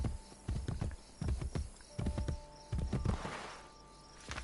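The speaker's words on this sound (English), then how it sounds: "Except my horse doesn't seem to like where he's running at the moment." Horse hooves clip-clop in rapid galloping bursts in the video game Assassin's Creed Brotherhood, loud and close, with brief pauses between runs and a faint swell of ambient noise near the end.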